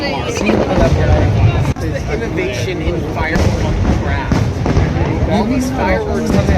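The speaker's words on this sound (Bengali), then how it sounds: "বিভিন্নভাবে আতশবাজি আকাশে এরা দেখাচ্ছে, আতশবাজি খেলা" A fireworks display bursts in the sky over a crowded American street festival at night, with booming pops and crackles blending into loud, constant crowd noise while people talk nearby.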